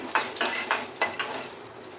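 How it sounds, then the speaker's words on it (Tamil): Chana dal lentils frying in hot oil, a soft close sizzle broken by several scraping stirs of a spoon in the pan, with no talk. "இதை சேர்த்து நல்லா கொஞ்சம் பொரிச்சு பருப்பு வந்து கொஞ்சம் கோல்டன் ப்ரௌன் கலர் வரட்டும்"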